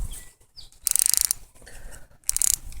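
Brake dial on an Abu Garcia Black Max2 baitcaster reel turned by hand, two close bursts of rapid ratcheting clicks separated by quieter handling noise.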